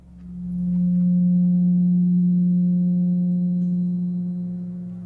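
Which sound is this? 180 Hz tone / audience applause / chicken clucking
180 Hz tone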